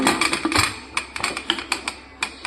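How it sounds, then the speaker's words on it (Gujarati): The lid of a pressure cooker is fitted and twisted shut, producing a rapid run of close, crisp clicks and clacks over a couple of seconds, with no talking. "હવે કરી દઉં બંધ કુકરનું ઢાંકણું."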